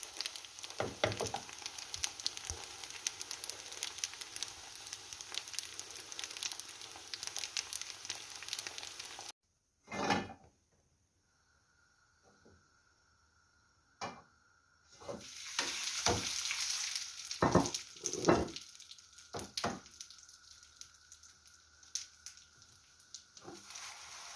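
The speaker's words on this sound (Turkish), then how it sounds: "Eriştem kızardı." Leftover erişte noodles frying in a pan give a steady close sizzle with stirring scrapes. A short near-silent break follows, then sizzling and clattering return.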